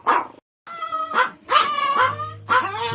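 A Chihuahua dog gives a quick run of sharp, high barks and yips, close and loud, with short gaps between bursts.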